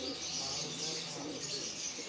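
Pigeons cooing close by in a loft, soft low rolling coos over a steady background hum.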